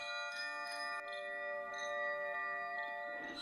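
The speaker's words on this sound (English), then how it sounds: "A light breeze made a chime sound hanging from a tree near" A wind chime hanging from a tree near a hotel entrance, stirred by a light breeze, rings with sustained metallic tones that ring on steadily and softly throughout, with a few gentle strikes and no voices.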